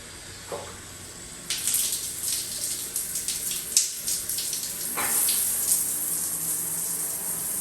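Shower water running after the tap is turned to the cold side, a hiss that swells and splashes loudly with uneven bursts and then continues steadily. No voices can be heard.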